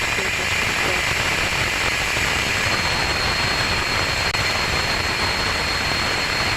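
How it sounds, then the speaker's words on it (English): The second-stage Rutherford engine of a Rocket Lab Electron rocket roars at startup, a loud, steady broadband rush with a faint hiss that holds unbroken throughout. "That is a healthy Rutherford engine startup on the second stage now that we are clear of first stage MECO and stage separation"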